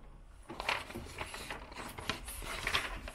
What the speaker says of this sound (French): je suis en train d'aligner l'imprimante après avoir mis une nouvelle cartouche.